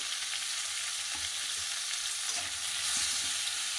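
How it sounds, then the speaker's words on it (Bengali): Potato and pointed gourd fry in a pan with chilli, turmeric and cumin powder, giving a steady close sizzle throughout with a few soft stirring scrapes and no talking. "আলু আর পটলটা ভাজা হয়ে গেছে। ওপর থেকে লঙ্কার গুঁড়ো, পরিমাণ মতো হলুদ গুঁড়ো, পরিমাণ মতো জিরে গুঁড়োও দিয়ে দিলাম।"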